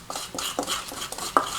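A metal spoon scraping seeds out of a halved butternut squash, a series of quick close scrapes and clicks against the flesh in an uneven rhythm.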